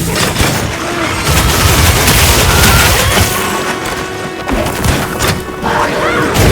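Charge Blade shield thrust and discharge attack in Monster Hunter Wilds, a dense run of loud explosive crashes and booms with heavy impacts packed together, continuous and forceful throughout with game effects layered on top.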